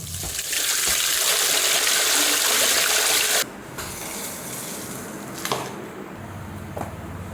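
Tap water gushes and splashes loudly while mutton is washed for a handi mutton dish, the broad rush cutting off abruptly partway through, followed by softer trickling, squishing and wet handling sounds up close.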